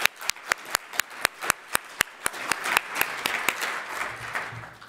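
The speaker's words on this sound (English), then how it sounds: "So I just wanted to give a round of applause and" Conference audience applause begins with a single person's evenly spaced loud claps, then swells into broader clapping from the room before fading under a voice.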